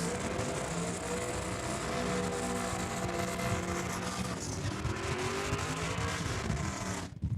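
Heavily modified Real Steel Big Tire drag race truck in the lanes at Saskatchewan International Raceway, a loud sustained engine roar with wavering revs and pitch shifts, cut off abruptly at the end.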